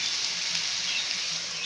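Onions and tomatoes sizzle in a pan while being sautéed for a spicy crab gravy, a bright, continuous close-up frying hiss with no speech.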